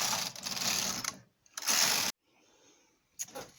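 A knitting machine carriage knitting rows on a tunic, three separate bursts of clattering, ratcheting mechanical noise with quiet pauses between passes.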